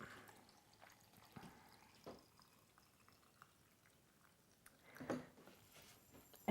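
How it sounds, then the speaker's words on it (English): Organic unpasteurized apple cider vinegar is poured over chopped vegetables and herbs to make fire cider, giving faint, soft trickling and splashing with a few brief louder splashes in a quiet room. "next I'm going to cover it with apple cider vinegar"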